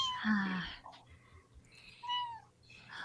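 A cat gives a couple of soft meows, faint and mixed in with some low voices in the background.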